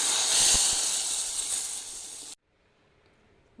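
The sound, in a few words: hot ghee tempering with mustard, chillies, curry leaves sizzling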